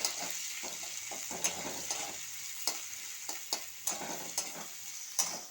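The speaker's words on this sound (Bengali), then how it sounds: "পেঁয়াজটা ভাজা হয়ে গেছে" Chopped onion, two green chillies and garlic paste fry in a pan for an egg curry with cauliflower, making a soft, steady sizzle broken by repeated clicks and scrapes of a stirring utensil, without talk.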